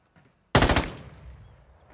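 Sudden loud burst of automatic gunfire in Modern Warfare 2, a rapid string of close shots after a near-silent start, then trailing off into a fading echo.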